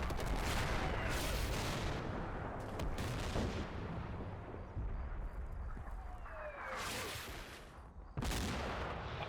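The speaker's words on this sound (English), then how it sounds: "he responds by revenge shelling most of the map" Artillery shelling in the video game Combat Mission Shock Force 2, with repeated heavy booming blasts and rumbling impacts across the map, loud bursts at the start and again near the end with sustained rolling noise between.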